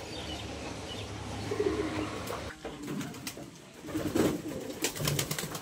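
Pigeons cooing around midday, kept by someone who waters them: a few soft, low coos rise at intervals over a quiet, fairly faint background, with no talking.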